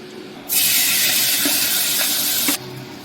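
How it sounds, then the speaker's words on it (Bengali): A hilsa fish head drops into hot oil, setting off a sudden loud, bright hiss that holds steady for about two seconds, with a few faint clinks, then cuts back to a quiet background. "এবার ভাজবো মাছের মাথা।"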